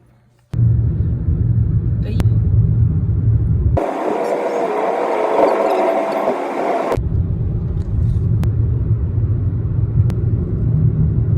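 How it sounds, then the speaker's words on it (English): A car cruising the Mesa Top Loop road at Mesa Verde, a steady low engine and tyre rumble inside the cabin for the whole stretch, with a louder, brighter wind-like passage in the middle, no talk heard. "We're driving the Mesa Top Loop, which is a 6-mile driving loop"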